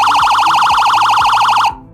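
A loud Fury Elite 30-watt motorcycle police siren rapidly warbling in a steady, fast-cycling wail that cuts off abruptly near the end, leaving a fading tail.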